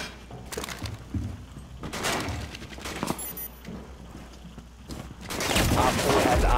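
Gunfire bursts in Rainbow Six Siege during a Favelas hostage match, with sharp volleys of shots and heavy thuds scattered among voices talking over it, ending in a louder sustained rattle.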